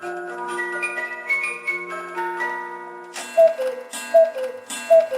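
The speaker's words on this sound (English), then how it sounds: "it's like an ice cream truck and then a cuckoo clock" Chiming music-box melody like an ice cream truck, then a cuckoo clock's repeated two-note calls, loud and clear with no talk.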